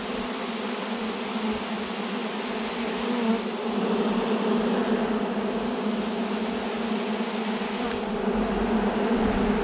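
A swarm of honey bees in May in Pfinztal hums in a dense, continuous drone that holds steady and close throughout, with no voices.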